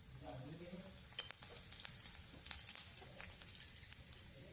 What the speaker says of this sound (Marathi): जिरं चांगलं तडतडले